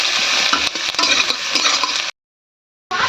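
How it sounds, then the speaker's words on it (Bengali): Chopped onion, garlic, ginger and green chilli sizzle loudly as they are stir-fried until reddish-brown for dal tadka. Steady frying hiss carries light utensil clinks, then cuts to silence for a moment before resuming. "পেঁয়াজ রসুন আদা কাঁচামরিচ কুচানো এগুলো লাল লাল ভাজা হয়ে গেছে"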